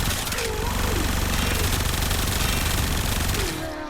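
Sustained rapid-fire bursts from the Supra Vandal in Warframe, a loud, unbroken machine-gun-like rattle that runs for several seconds before easing off, with some talk mixed in.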